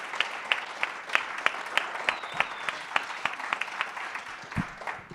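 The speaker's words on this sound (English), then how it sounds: "I want to get up and give this panel a great round of applause." Audience applause for a conference panel at the close of a session, steady clapping from a seated crowd at moderate distance with no talking over it.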